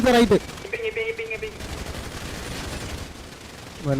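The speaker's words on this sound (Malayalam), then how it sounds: "വെടിയുണ്ട പോകുന്നു." Short bursts of automatic gunfire ring out during an online multiplayer shooter match, mixed with voice chat at the start and end.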